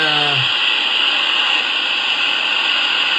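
A Lionel Vision Line Niagara model steam locomotive, number 6013, vents a loud, steady hiss from its safety valve sound effect. It runs alone and unbroken, and a low whistle-like tone fades out at the start.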